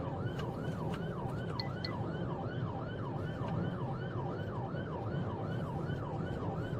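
A police car's wailing siren rises and falls in a fast, regular cycle, steady and fairly loud over a low rumble of road traffic.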